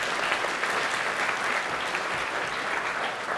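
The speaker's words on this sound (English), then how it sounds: "Let's give them a round of applause." Steady audience applause for event sponsors at a multiple sclerosis and aging program, a dense, even wash of many hands clapping that holds at constant loudness throughout.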